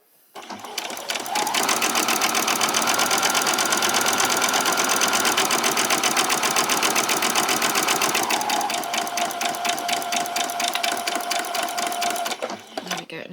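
A sewing machine back-stitching and then running straight across PJ trouser pieces: a loud, rapid mechanical chatter that runs continuously for about eleven seconds, shifting pitch partway through before stopping.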